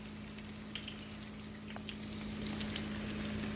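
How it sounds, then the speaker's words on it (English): Chicken pieces fry in shallow oil in a pan, a steady close crackling sizzle with small pops, growing slightly louder toward the end. "I'm just going to put a little bit more oil in the pan."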